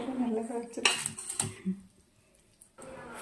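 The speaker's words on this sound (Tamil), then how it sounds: "இதை வந்து நம்ம வந்து கிளறி விட போகிறோம்" Kerala prawn biryani masala stirred in a pot, a few sharp clinks and scrapes of a metal spoon against the pan, a voice speaking briefly at the start, then quiet before another scrape.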